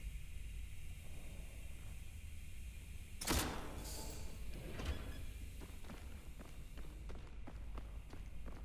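A door unlocks and slides open in the horror shooter SCP 5K, a sharp mechanical clunk followed by a hissing, grinding slide, then a run of soft, quick footsteps against a steady low hum.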